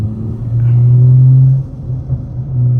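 Steady low engine rumble from a BMW 340i running on race gas, with a sustained drone that swells then dips slightly as the car drives along, close and loud with no talking.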